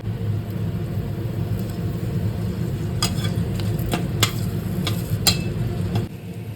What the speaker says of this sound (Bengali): এবার আমি ফোড়ন হিসাবে দিয়ে দেবো কিছুটা মেথি, আর দেব একটা গোটা শুকনো লঙ্কা।